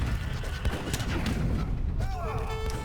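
Cannon and artillery volleys in an Age of Empires III battle, a run of booming shots and impacts layered under a commentator's talk.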